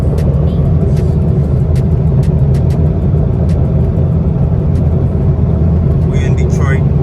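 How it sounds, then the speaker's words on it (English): A 2013 Ford Escape with a check engine light and ABS light on cruises along a snowy expressway in Detroit, giving a steady, loud road and engine rumble throughout, with faint clicks over it. "We riding on the E-way."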